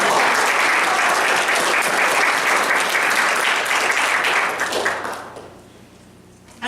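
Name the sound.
audience round of applause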